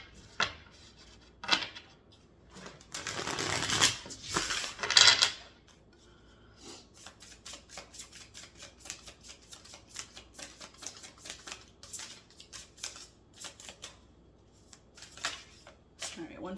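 An oracle card deck is shuffled close up, first in a few loud riffling bursts, then as a long stretch of quick, soft, rhythmic card flicks, with a voice talking faintly in places.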